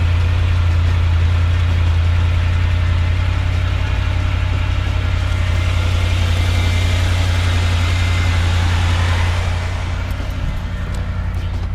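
A lifted car's engine idles steadily while warming up, a constant low rumble with a mid-range hum, close and continuous for the whole stretch, easing slightly near the end.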